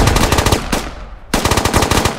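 Rapid automatic gunfire in the tactical shooter game Squad, loud and close, comes in dense bursts. It stops briefly and then resumes just as hard.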